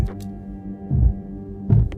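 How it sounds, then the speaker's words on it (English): A heartbeat sound effect, slow deep thumping pulses about a second apart over a steady low hum, with no voice over it. "That rhythm in your chest right now."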